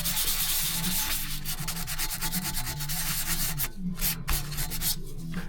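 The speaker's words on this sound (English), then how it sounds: "You don't want to sand down too far and wear out the grain." Steady rubbing of sandpaper over the wooden door of a 1964–1967 Corvette C2 glove box, a continuous close scratchy sanding with a brief pause near the end, no voices.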